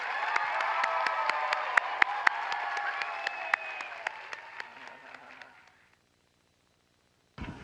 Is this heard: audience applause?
yes